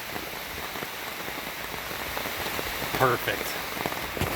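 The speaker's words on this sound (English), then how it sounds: "it is pouring rain" Heavy rain pours down steadily outdoors, a dense constant patter throughout, with a voice briefly speaking over it near the end.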